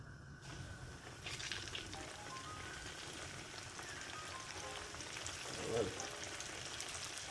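Catfish sizzles and crackles steadily in hot oil, a continuous spitting hiss, with a brief word spoken over it.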